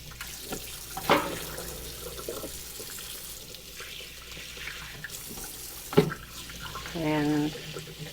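Water running from a kitchen tap into a measuring cup while homemade bread is being made, soft and intermittent, with a couple of louder clinks and a brief burst of flow near the end.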